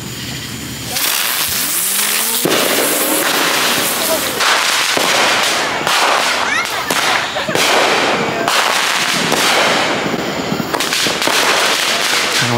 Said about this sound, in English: We just got done shooting fireworks.